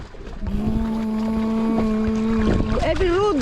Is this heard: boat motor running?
yes